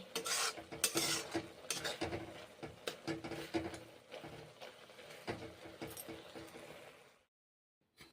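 Maggi noodles being cooked in a pan, with dense scraping, stirring and clattering of a utensil against the pan for about seven seconds, loud and close, then sudden quiet.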